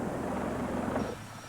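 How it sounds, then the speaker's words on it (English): Helicopter rotor noise from aircraft carrying soldiers across country in 1988, a steady broadband roar with a low throb that drops away slightly near the end, heard alone without voices. "Helicopters ferried soldiers across country to Brendan Moley's funeral."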